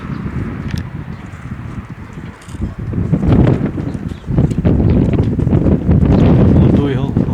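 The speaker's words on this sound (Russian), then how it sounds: "Но ветер очень тугой тяжелый ветер." Strong, heavy wind buffets the microphone outdoors during a pigeon flight test, rumbling gusts that grow louder and rougher midway, with someone talking under the roar.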